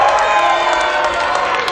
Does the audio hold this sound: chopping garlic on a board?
no